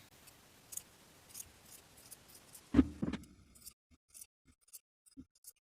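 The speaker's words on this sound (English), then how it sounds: "Trim your seam allowance down to a 1/4 of an inch." Scissors trim a fabric seam allowance on a beginner tank top, giving several quiet, spaced snips followed by a louder cluster of cuts and rustles, then a few faint clicks in near silence.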